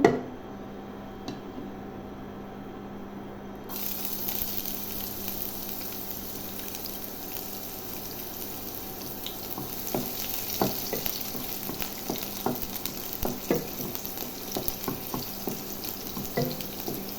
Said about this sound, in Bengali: রসুনটা হালকা করে ভেজে